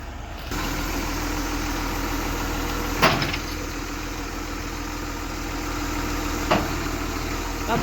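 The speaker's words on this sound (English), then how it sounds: "we're just gonna use the loader to lift it up" A loader's diesel engine runs at a steady idle close by while preparing to lift a MacDon swather, with a low, even rumble and two brief louder bumps.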